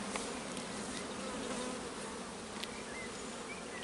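Honeybees swarm around an open beehive during an inspection, a dense, continuous buzzing close by and fairly even in loudness, with no talk heard.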